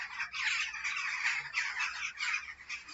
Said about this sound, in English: So we've got some noisy crows up there.